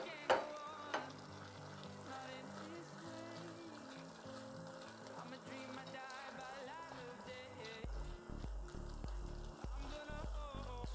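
Chicken fries in a pan as its water cooks off, giving a soft, steady hiss that grows heavier and more crackly toward the end. Faint clattering can be heard underneath.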